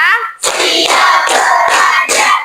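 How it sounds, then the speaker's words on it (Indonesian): A math class claps hands in counted rhythm while children's voices chant along loudly and close, in a few quick bursts separated by short pauses. "Tepuk 1, tepuk 2, tepuk 3, tepuk 4, tepuk 5."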